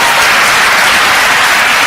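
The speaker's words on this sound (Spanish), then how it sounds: "Denle un aplauso al Señor Jesucristo en esa noche." Steady applause from a congregation at an evangelical church service, a dense even clatter of clapping that fills the whole moment with no voices over it.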